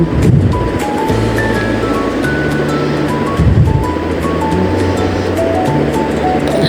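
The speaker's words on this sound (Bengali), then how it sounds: "সমুদ্রের ঢেউ" Steady wash of surf rolling in, a continuous broadband roar with low tonal hums running underneath, fairly loud and unbroken throughout.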